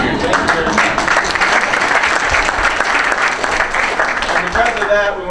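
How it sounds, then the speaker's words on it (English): An audience bursts into sustained clapping and applause, loud and dense, continuing for several seconds before starting to taper off. "give yourselves a round of applause"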